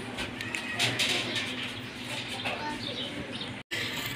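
Pigeons kept in a loft soft cooing and chirping nearby, mixed with rustling and brief handling noise, a short dropout near the end.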